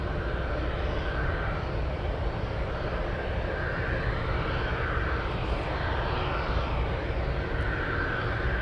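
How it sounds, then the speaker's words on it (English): China Airlines cargo plane arriving at Anchorage from JFK, a continuous engine roar with a whining tone that rises and falls, moderately loud and steady, no talking. "We have China Airlines cargo flying in from JFK."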